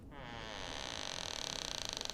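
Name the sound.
door creaking loudly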